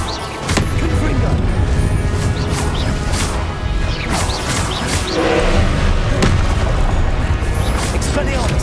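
Confringo blasting-spell explosions in Hogwarts Legacy, in the middle of a boss fight: repeated loud booms and crashes layered over continuous combat noise, with a voice calling out spells.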